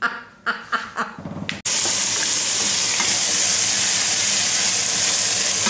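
Scrambled eggs hit a hot pan and settle into a loud, steady sizzle that runs on continuously after a few short clattering knocks at the start.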